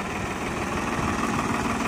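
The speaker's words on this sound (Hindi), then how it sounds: "57 HP का ट्रैक्टर है जी।" A New Holland 3630 4x4 tractor with a 57 HP engine idling, a steady mid-low rumble with an even throb, close and continuous, with no voices over it.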